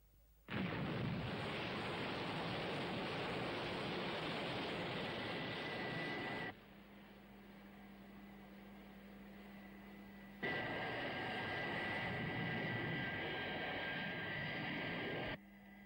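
An aircraft in an animated series takes off and flies, a loud, sustained engine roar that cuts out abruptly, leaves a quieter hum for a few seconds, then returns at full strength before stopping again.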